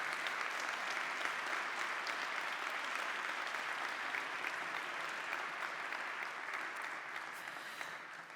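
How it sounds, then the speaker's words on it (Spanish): An audience at a cybersecurity talk applauds in memory of a colleague, a steady, sustained wash of clapping from many hands that holds evenly and tapers slightly toward the end. "pido un aplauso na memoria de Fernando Villar"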